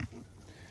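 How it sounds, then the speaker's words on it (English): A sow nursing piglets that are being weaned gives a short, low grunt close by on a farm, followed by quiet background noise. "I haven't talked to this pig in a while."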